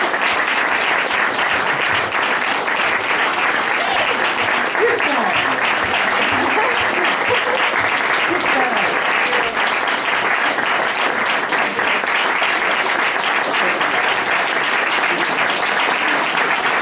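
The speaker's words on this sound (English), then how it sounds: "could you guys all just please help me to thank them with a round of applause" Sustained applause from an audience thanking interns at a university bookstore reading event, a dense, steady wash of clapping that fills the whole stretch without pause, with faint voices mixed underneath.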